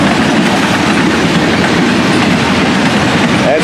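A heritage steam railway train passes close and loud, its steady rumble and clickety-clack of wheels over rail joints continuous throughout with no voices.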